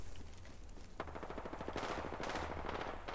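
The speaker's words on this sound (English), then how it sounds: "And I hear shooting up top." Rapid automatic gunfire from the video game Apex Legends rattles in bursts, moderately distant and fairly quiet, starting after a short lull and continuing almost nonstop to the end.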